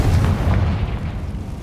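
Spell explosions from Bombarda and Confringo in the video game Hogwarts Legacy: a loud, booming blast with a heavy low rumble that carries through the whole moment and slowly fades.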